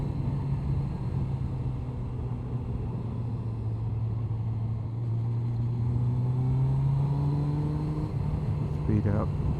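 Motorcycle riding a winding mountain road, RR 337 in Texas, with a steady engine drone and slowly shifting pitch as it speeds up through corners, wind rumble underneath, and a rider talking over it.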